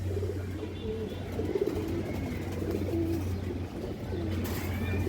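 Female Lalchulli pigeon cooing in a loft, low soft coos repeating steadily over a constant low hum, no talk.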